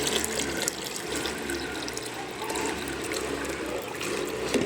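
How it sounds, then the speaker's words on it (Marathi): Water is poured from a one-litre mug into a container of onion peels to make liquid plant fertilizer, a continuous close splashing gush with no speech. "अजून 1 लिटर मी पाणी याच्यामध्ये ओतणार आहे."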